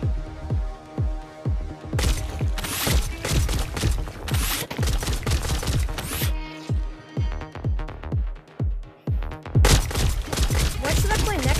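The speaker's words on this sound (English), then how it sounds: "Now I'm shooting people with paintballs." Paintball gun shots in the Pistol Whip VR game arrive as a steady run of punchy, rhythmic thumps, layered over loud, busy game music.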